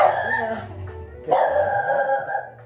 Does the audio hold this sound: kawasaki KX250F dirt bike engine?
no